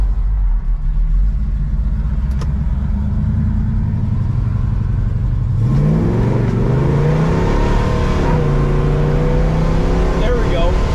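A 1967 Chevelle SS with drum brakes drives along, its engine note rising and falling through gear shifts, loud and close, with people talking over it.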